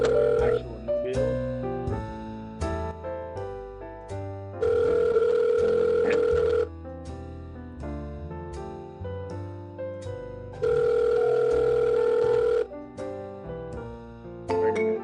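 Ringback tone of an outgoing phone call: two long steady tones, each about two seconds, separated by a pause, heard over background music.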